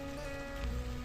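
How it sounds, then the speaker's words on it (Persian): Heavy rain falling on a university campus, a faint, even hiss of drops without any voices. "بارونم عجب داره شدید میشه"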